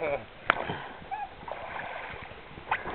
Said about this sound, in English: and there's Rick rowing up the river